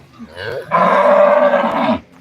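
A cow at a dairy farm lets out one loud, sustained moo lasting over a second. A shorter, quieter lowing sound comes just before it, and there is no talking.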